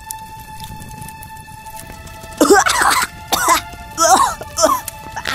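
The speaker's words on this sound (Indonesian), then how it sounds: "Asap ini membuatku batuk." Several coughs from forest-fire smoke, close and fairly loud, in short bursts after a quiet stretch with a steady tonal hum in the background.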